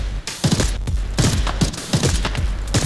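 Rapid bursts of gunfire in the video game Arena Breakout: Infinite crack repeatedly, loud and close, in dense overlapping volleys with no pause throughout.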